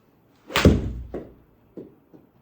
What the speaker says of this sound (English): So I'll go ahead and hit my shot here.